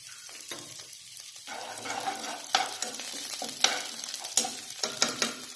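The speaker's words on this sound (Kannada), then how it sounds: "ಅದ್ರೊಳಗ ನಾನು ಫಸ್ಟ್ ಸ್ವಲ್ಪ ಕರಿಬೇವು ಚಟ್ಪಟ್ ಮಾಡ್ತೀನಿ" Curry leaves crackle in hot ghee in a pan for a peanut masala fry, giving a close, continuous sizzle broken by sharp pops and crackles that grow busier and louder toward the end, with no voices.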